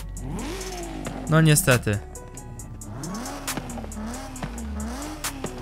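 BMW M3 engine revving in Forza Horizon 5, a rising, falling drone with a brief louder burst of revs and tyre noise near the middle, running under a man's speech.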